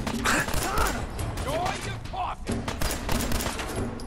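Gunfire in a multiplayer shooter video game, bursts of rapid shots and mechanical clicks at a steady close level, with game sound effects layered throughout.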